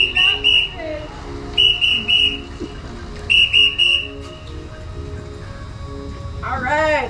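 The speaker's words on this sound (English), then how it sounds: "If you want me to blow the whistle?" A coach at a velodrome class blows a whistle in several sharp, loud bursts, some doubled, spread across the moment, while voices talk and murmur in the background.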